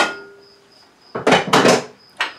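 A spoon is set down with a few quick metallic clinks and clatters in close succession, then one more light tap, after a faint ringing tone.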